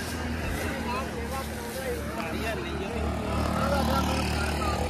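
Tractor engine pulling a loaded double-deck trolley, a steady close rumble with road noise running throughout, while a person talks over it.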